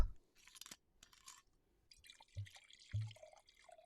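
Chardonnay trickles and splashes into a wine glass in short close-up bursts, quiet pouring sounds broken by pauses and a couple of soft clinks.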